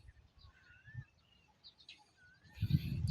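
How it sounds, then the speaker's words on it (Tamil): Flock of sparrows chirping in rural Cuddalore district, a scattered series of faint high tweets and thin whistled calls at a distance, swelling into a denser burst of twittering near the end. "ஒரு ஆயிரக்கணக்கான குருவி இருக்குது."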